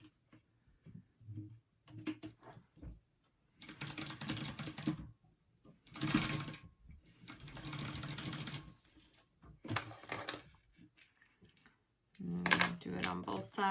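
Sewing machine runs a quarter-inch seam on a clutch wallet in several short bursts of fast, rattling stitching, separated by pauses with a voice speaking between them.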